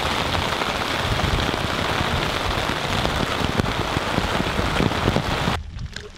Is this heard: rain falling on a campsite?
yes